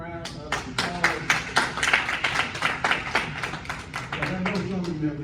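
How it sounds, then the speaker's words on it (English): Audience applause at a business networking event, with sparse individual claps building into scattered clapping and a voice talking over it, moderately near. "Let's give her another round of applause."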